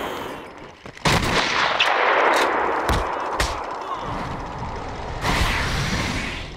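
Gunfire in the video game Batman: Arkham Asylum: several sharp, loud shots crack out in an irregular burst over a dense, noisy game background, with another blast near the end.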